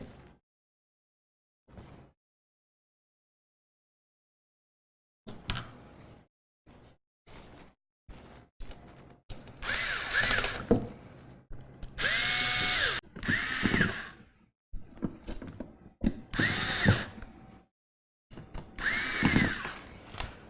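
A power drill drives screws into liquid cooler fans during a PC cooler installation, whirring in short separate bursts with pauses between, growing louder and longer toward the end, close up and without talk.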